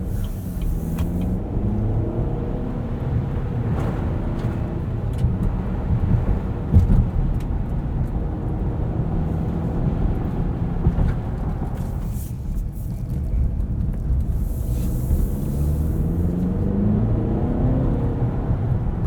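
A 2023 Cadillac XT4 Premium Luxury with a 2-liter turbo, driving in all-wheel drive on snowy roads, gives a steady low engine and road rumble heard from inside the cabin, continuous throughout with no talking.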